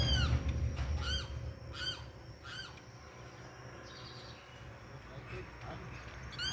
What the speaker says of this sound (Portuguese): Tem um passarinho, o carão ali cantando ali.